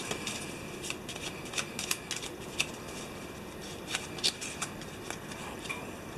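A deck of cards is shuffled in a series of crisp riffles and flicks, with irregular bursts of card clatter close to the microphone and no talking.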